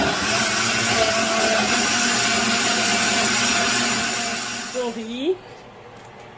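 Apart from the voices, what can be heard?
blender blending tomato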